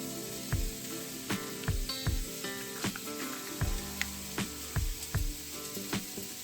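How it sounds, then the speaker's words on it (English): Vegetables sizzle steadily in a hot pan for stir-fried udon noodles, a constant frying hiss broken by repeated knocks and scrapes of a utensil stirring against the pan. "While the veggies are cooking"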